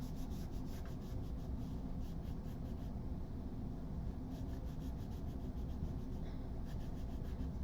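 A crayon rubs steadily across paper while someone colors in a red bar, giving a continuous, close, dry scratching texture with no pauses.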